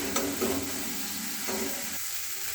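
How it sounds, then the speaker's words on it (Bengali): Chopped ginger fries in a pan with tomatoes already cooked down, giving a steady close sizzle with light stirring scrapes and no talking. "আদাটা ততক্ষণ ভাজতে হবে যতক্ষণ কাঁচা গন্ধ"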